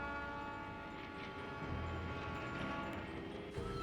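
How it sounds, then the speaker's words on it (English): A Swiss cog railway train climbs uphill with a steady mechanical drone and a sustained horn-like tone, with a low rumble rising near the end. "This railway in Switzerland uses cogs instead of normal wheels to crank its way uphill."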